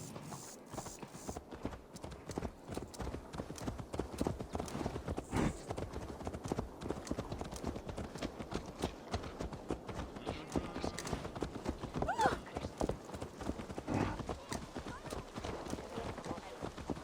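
Horse hooves clip-clop in a steady walking rhythm in Assassin's Creed Valhalla, continuous and fairly close, running under ongoing talk.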